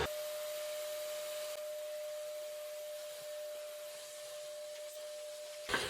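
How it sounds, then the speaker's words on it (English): A vacuum cleaner runs steadily and close by while cleaning out the inside of a Commodore Amiga A2000 power supply, a constant whining drone with faint rubbing, ending in a brief clunk. "Now I really should get the vacuum onto this first."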